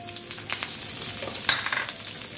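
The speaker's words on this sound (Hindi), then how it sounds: "अब डालेंगे हम इसमें गार्लिक, डालेंगे गार्लिक को भी हम कट कर लिए और एक हम ग्रीन चिली डालेंगे।" Chopped garlic and a green chili fry in a pan with a moderate, steady sizzle and a few light stirring clicks, no voices.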